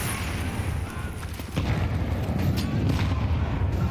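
A grenade blast in the Counter-Strike 2 video game during a professional match at a major tournament, a deep rumbling boom amid continuous gunfire and game noise, with a caster talking over the action.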